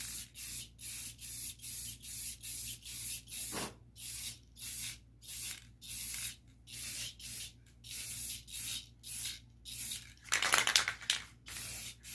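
A homemade airbrush fed by a tiny air compressor sprays in short regular hissing bursts, about a dozen evenly spaced puffs, close and fairly quiet, with one longer rougher burst near the end.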